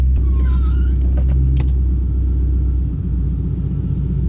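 A Ford Mustang on a test drive after upgrades, a steady low engine rumble and road noise from inside the car, loud and continuous, with a brief higher whine early on.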